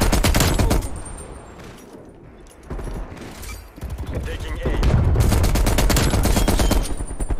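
An M60 machine gun in Call of Duty: Cold War fires in rapid, loud, close bursts, pausing briefly midway before a long sustained stream, with talk mixed in.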